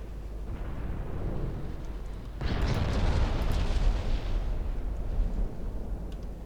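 Torpedo hits exploding against an enemy battleship in a 1964 naval warfare game, a low rumbling wash that swells into a loud, sustained roaring blast partway through and then slowly trails off.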